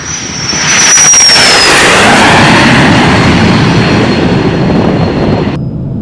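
A Citation M2 Gen 2 jet rolls for takeoff, its engines building to a loud, steady roar with a fading high whine that holds near and constant to the end.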